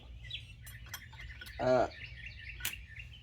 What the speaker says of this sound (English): surprise, the birds are back. They won't shut up.